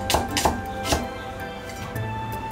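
Knife slicing two red chili peppers into thin pieces on a board, three sharp chops in quick succession followed by quieter scraping.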